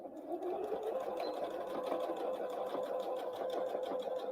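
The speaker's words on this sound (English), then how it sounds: "And I'm just stitching all the way to the end" Sewing machine stitching fabric for Christmas tree napkins, a steady fast mechanical whir and rhythmic needle chatter running continuously and close up, with no voice.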